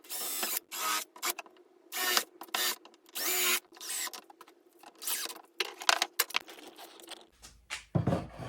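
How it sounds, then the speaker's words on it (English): Drill pre-drilling, countersinking and driving screws into the backs of small French cleat shelves in a workshop, heard as short repeated whirring bursts separated by pauses, close and loud, without talk. "Pre-drill, countersink, drive the screw into the back, and all of these little shelf things will be put in place."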